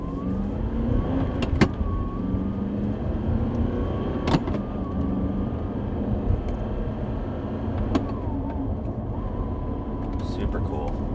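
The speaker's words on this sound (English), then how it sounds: "Let's go for a drive. 2014 Audi R8" A 2014 Audi R8 V8 with a gated manual gearbox out on a drive, its engine a low steady hum from inside the car, with someone talking over it and a few sharp clicks.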